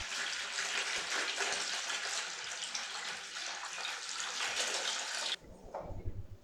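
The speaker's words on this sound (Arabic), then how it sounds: "نجهز المي لنبلش برص الزيتون." Water runs steadily from a tap, a strong continuous rush filling a container to prepare for cracking green olives, then cuts off abruptly near the end, leaving quieter splashes and handling sounds.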